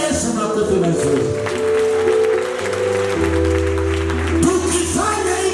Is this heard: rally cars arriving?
no